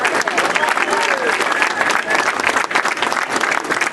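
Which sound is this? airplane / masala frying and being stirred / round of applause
round of applause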